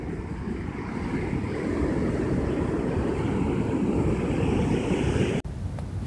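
Surf rolls in continuously on Jensen Beach with steady wind buffeting the microphone, a loud, unbroken wash of waves and gusts that cuts out abruptly for an instant near the end.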